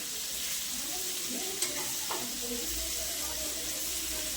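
Fish coated in semolina and rice flour fries in a pan after being turned, a steady close hiss of sizzling oil with a brief clink or two and faint voice-like tones underneath.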